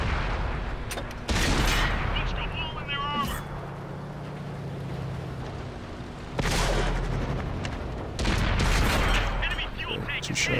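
Heavy tank cannon shots boom in a tank video game, two loud blasts several seconds apart over a steady engine rumble, with someone talking between them.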